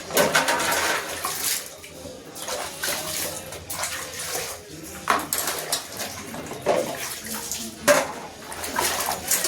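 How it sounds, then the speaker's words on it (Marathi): Water splashes and runs steadily while metal sieves and kitchenware clatter and knock now and then, close by, as they are rinsed under a flowing stream. "चाळण्या वगैरे धुवून टाकते आता."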